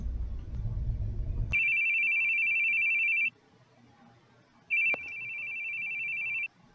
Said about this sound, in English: Your phone! I hate hearing phones ring.